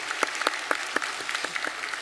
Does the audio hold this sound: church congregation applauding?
yes